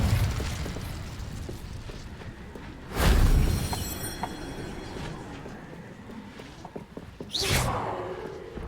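An Incendio fire spell ignites in Hogwarts Legacy with a sudden whooshing burst about midway, then crackling tails, and a second fiery flare-up later, set against a steady game ambience.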